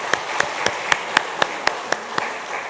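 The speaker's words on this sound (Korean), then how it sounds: "들어가실 때 다시 한번 박수 주시기 바랍니다" A church congregation applauds in a steady, even rhythm, about ten distinct claps in under three seconds over a soft background hiss, with no voices heard.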